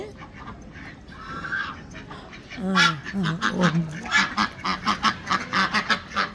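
Young ducks on a small rooftop duck farm quack in a rapid, rhythmic series of honking calls close by, following a stretch of quieter background noise with faint chatter.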